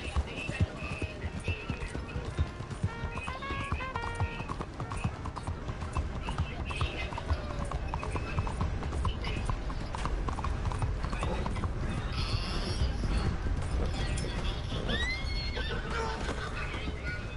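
Hooves galloping in a steady clip-clop rhythm throughout a game scene, with horses neighing now and then and voices in the background.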